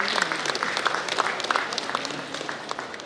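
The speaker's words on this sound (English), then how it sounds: "Can we have a big round of applause?" Steady applause from an audience at a healthcare conference, dense overlapping claps at a moderate, even level throughout.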